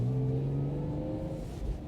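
A Lexus IS200 with a 2-litre straight-six accelerates to overtake another car on a snowy road, heard from inside as a low, rising engine drone with a brief upward pitch sweep, steady and fairly quiet.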